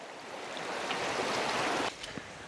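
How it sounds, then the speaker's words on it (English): A small creek near an off-grid cabin in Montana flows with a soft, steady burble, faint and continuous, easing slightly near the end. "Nice little creek right here."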